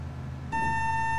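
Vehicle reversing beep in a driving video game: a steady, loud, pure electronic tone switches on abruptly and holds unbroken, close and alone over low background hum.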